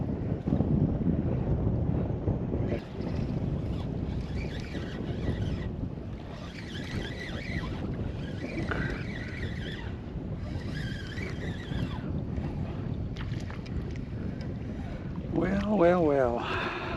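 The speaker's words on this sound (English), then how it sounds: "the wind is really whipping, probably blowing 15 to 20 behind my back" Strong wind buffets the microphone while out fishing on a boat, a steady loud roar and rumble throughout, with a voice talking beneath it and a brief higher warbling sound near the end.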